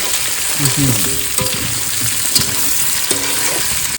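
Potato, green chili, garlic, onion and tomato fry together in a pan with a loud, continuous sizzle and occasional stirring scrapes, close up.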